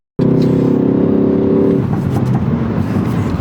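Ford Focus ST Track Pack driven hard on an open road, its engine note loud and steady, then easing off, with brief crackling exhaust pops scattered through the lift-off.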